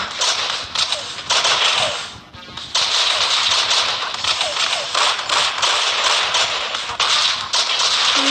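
Constant gunfire from the Madness Project Nexus video game, a loud, dense stream of rapid shots with almost no gaps and only a brief dip partway through.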